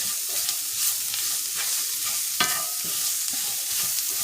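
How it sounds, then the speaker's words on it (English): Spoon stirring a jackfruit pulled-pork-style filling in a pan, with a steady sizzle under repeated scraping strokes, close and moderately loud, and no talking. "Let me just mix this up."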